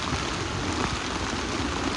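Steady rainfall near Murdeshwar in misty weather, a constant soft patter and hiss of drops on surfaces at moderate level with no voices.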